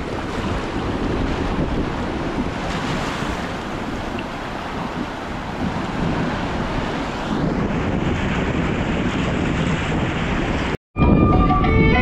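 A steady roar of surf and wind fills the air at Bakkhali beach, waves rolling continuously with heavy wind buffeting the microphone, ending abruptly.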